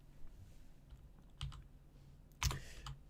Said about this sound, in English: Where am I even typing this now?